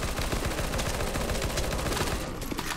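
Rapid automatic gunfire from many weapons rattles continuously in a CS:GO Zombie Escape match, dense overlapping shots at steady loud volume throughout.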